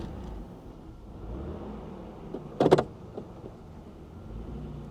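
An Oldsmobile Cutlass Supreme with 66k miles idling low and rough after the gas is released, a steady low rumble close by with a short mechanical burst midway.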